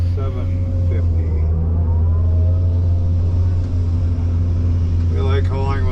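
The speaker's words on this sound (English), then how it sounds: "We like hauling with tractor and wagons more than semis." A farm tractor's engine drones loud and steady while it hauls sets of grain wagons, with a heavy low rumble throughout and a voice speaking briefly near the end.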